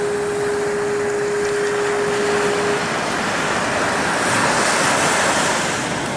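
Ocean waves wash onto a rocky beach at Fort Bragg, California, a loud continuous roar of surf with wind buffeting the microphone, swelling slightly toward the end.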